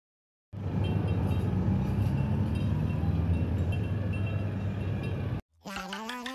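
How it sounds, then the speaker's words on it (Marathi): A large train passes while a bus waits stuck in roadside traffic, producing a loud, steady rumbling roar with faint clinks for several seconds before it cuts off. A brief voice follows at the end. "भक्कम मोठा ट्रेन आहे."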